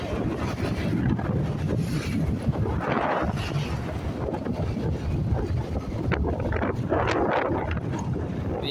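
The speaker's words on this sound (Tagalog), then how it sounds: "Medyo hangin-hangin sa pundri" Steady wind buffets the microphone, a constant low roar with gusting rumble and no voices.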